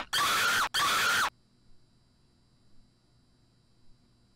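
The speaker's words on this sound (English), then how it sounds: "I think one scream on that is probably sufficient." A screaming sound effect played during a Phasmophobia game stream: two loud back-to-back shrieks close up, then cut off abruptly to a quiet background hum.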